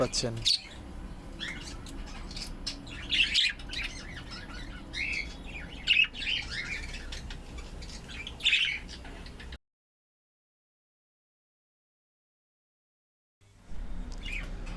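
Budgerigars kept in a cage with a clutch of eggs chirp and squawk in short, bright bursts over a low room hum, then the sound cuts to silence before faint noise returns.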